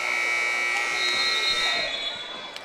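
A steady electronic shot clock buzzer drones for about two seconds over faint crowd noise at a high school girls' basketball game, then fades, with a sharp ball-bounce-like knock near the end.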